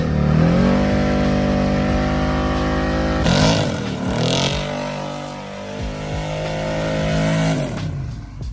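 A Dodge Daytona engine, suspected of a lost wrist pin after drifting, revs hard and accelerates loudly up close. Its throaty roar climbs, drops briefly as it shifts, then pulls again before easing off.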